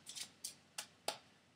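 Playing cards in an overhand shuffle with an undercut and throw, heard as four crisp, close riffling swishes spaced about a third of a second apart, with no voices.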